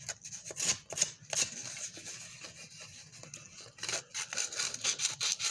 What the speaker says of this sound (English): back here where I'm now sanding on this roof